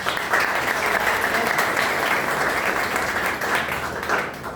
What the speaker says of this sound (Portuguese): Uma salva de palmas, por favor, para a doutora Eloá.